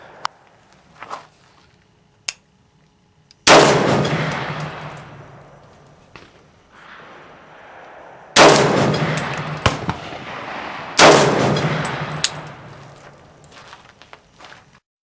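Three loud gunshots from a 300 AAC Blackout pistol with an 8.5 inch barrel, loaded with Winchester 296 powder, each sharp crack trailing into a long echoing decay, preceded by faint clicks and handling noise.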